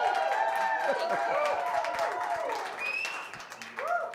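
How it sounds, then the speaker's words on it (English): A crowd applauds steadily, with cheering voices and some tonal sounds rising over the clapping throughout. "let's just have another big round of applause for Patrice Pike."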